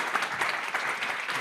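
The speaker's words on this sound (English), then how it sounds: "Please give them a round of applause." An audience applauds a panel with sustained, moderately distant clapping that stays fairly quiet and even, with no talk over it.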